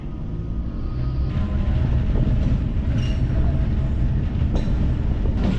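The 06034 MEMU passenger train from Tiruvannamalai to Chennai Beach, near Mukundarayapuram station, makes a loud, continuous low rumble as it runs, heard from on board with faint wheel rattles.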